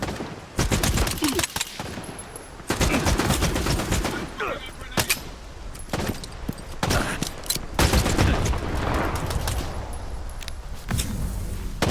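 Heavy gunfire from an enemy's weapon in S.T.A.L.K.E.R. 2 rattles in dense, loud bursts through most of the stretch, with sharp single cracks mixed into sustained automatic fire.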